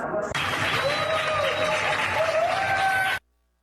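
Applause from a crowd, steady clapping over a broadcast in Brazil honoring health workers fighting coronavirus, loud and sustained for about three seconds before cutting off abruptly, with a faint whistle-like tone over it.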